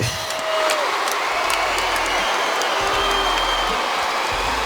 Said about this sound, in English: A round of applause for Deji.